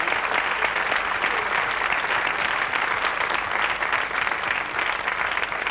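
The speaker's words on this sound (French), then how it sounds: "on vous applaudit très fort parce que vous avez donné un grand moment." A French TV studio audience applauds loudly and steadily, a dense, continuous wash of many hands clapping that fills the whole stretch without a break or voices on top.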